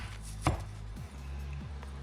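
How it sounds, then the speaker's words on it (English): Onions being chopped with a knife, one firm thunk at the board then lighter cuts under a low steady hum. "right now all I'm doing is cutting up my onions to go on top of my fish"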